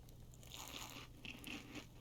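A person eating a couple of berries in a wilderness survival game, faint close crunching and chewing bites in quick succession over a low background hum.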